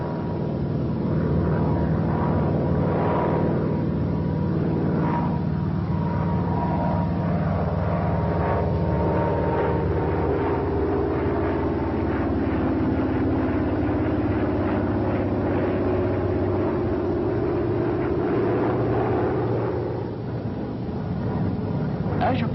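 F6F Hellcat fighter plane flying an Immelmann manoeuvre, entered at 200 knots, its steady engine drone rising and falling in pitch as it climbs and rolls, loud and continuous under a narrator's voice.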